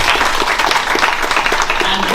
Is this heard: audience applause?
yes